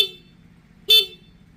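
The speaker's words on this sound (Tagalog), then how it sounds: "Yun, so ganyan yung busina niya" Two short, bright horn beeps close by from a Suzuki Raider 150 Fi motorcycle with an MXR M85 electromagnetic horn, the first at the very start and the second a moment later, with quiet in between.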